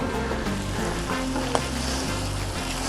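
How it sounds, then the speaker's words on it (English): Avocado oil sizzles steadily on a hot Blackstone flat-top griddle, a loud, continuous frying hiss with one small pop partway through and no voices. "we're going to throw down a little more avocado oil over here on this last side"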